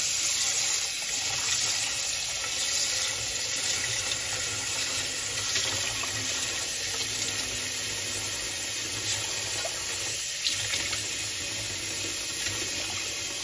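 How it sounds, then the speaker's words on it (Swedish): Tap water runs steadily into a measuring jug, three decilitres for cooking crispy fried rice, a constant close hiss and splash of the flow into the vessel with no talking. "Och nu 3 deciliter vatten."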